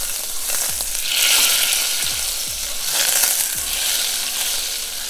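Butter browning in a pan sizzles with a steady, close crackle, gently rising and falling, with a few soft low knocks as the pan or spoon moves; no one speaks.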